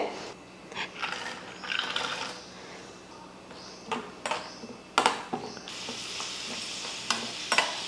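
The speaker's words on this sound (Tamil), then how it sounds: "இப்போ தாளிச்சிடலாம் நெய் ஊற்றியாச்சு" Ghee tempering in a large cooking pot for a big batch of green gram sundal and moong dal payasam, with a steady sizzle and repeated sharp scraping stirs and clinks at intervals, no talk.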